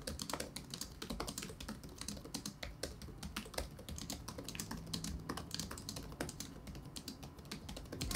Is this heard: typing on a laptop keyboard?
yes